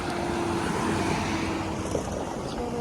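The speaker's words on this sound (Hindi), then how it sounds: "आवाज़ चेक करो यार टायरों की।" A loaded truck's tyres grind and rumble steadily while it reverses over rough off-road ground, a close, dense, continuous roar with a faint engine hum underneath.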